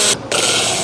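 A spice grinder blends about ten cloves with a teaspoon of cumin, a loud, dense whirring grind that briefly drops off before resuming at full strength.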